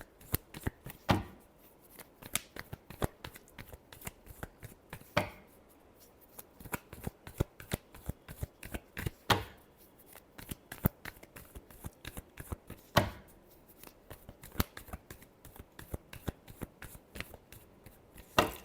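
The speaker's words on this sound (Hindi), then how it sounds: "last shuffle" Tarot cards being shuffled by hand, a steady run of crisp riffling and tapping bursts with sharper slaps every few seconds, close and fairly quiet, with no talking.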